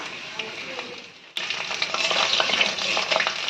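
Cumin, kasuri methi and slit green chilies crackle in hot oil as a tempering for chana masala. A moderate sizzle jumps suddenly louder and fuller midway as the chilies hit the pan, then keeps hissing and popping close by.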